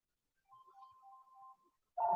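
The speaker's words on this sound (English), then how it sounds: "My phone has gone off the hook." A mobile phone rings with a faint, electronic warbling tone lasting about a second, followed by a brief louder chime at the end, in a quiet room.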